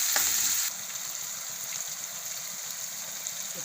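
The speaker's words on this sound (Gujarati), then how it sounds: "તો આપણે ટમેટાને ઘડીક વાર સડવા દેવું" Tomatoes fry in a pan for palak dal, a steady soft sizzle that starts with a brief louder burst of spattering and then settles into an even hiss, close and alone with no talk.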